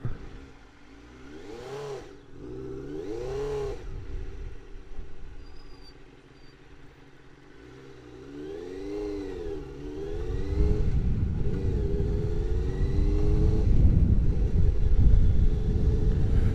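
A Suzuki GSX-R 600 SRAD motorcycle engine revs repeatedly with rising and falling pitch, then settles into a louder, steady roar toward the end.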